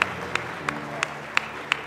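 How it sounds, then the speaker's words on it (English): A church congregation gives a clap offering, heard here as faint, evenly spaced sharp claps, about six in under two seconds, over a quiet room hum. "Let's give the Lord a clap offering."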